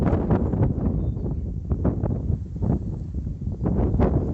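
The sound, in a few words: wind on a rocky ridge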